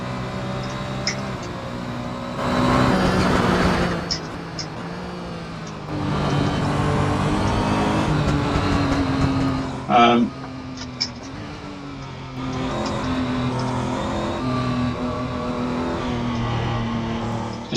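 Turbocharged car engine in the Assetto Corsa racing game, droning and revving through repeated acceleration bursts with gear changes and brief lifts between them, loud and continuous, with a short wastegate-like hiss partway through.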